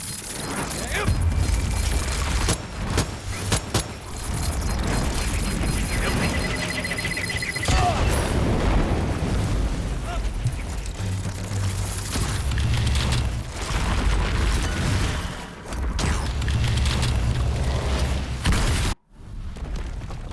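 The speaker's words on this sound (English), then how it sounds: "Dynamite getting thrown." Dynamite blasts in the co-op shooter Strange Brigade, loud booming bursts over a dense, continuous game soundtrack and effects, with brief voice lines mixed in, ending in a sudden drop to near silence.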